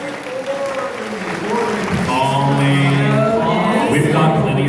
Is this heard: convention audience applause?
yes